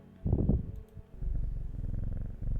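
A cat in the game Strange Horticulture purrs steadily while being petted, a soft, close, low rumbling that pulses on alone without talk.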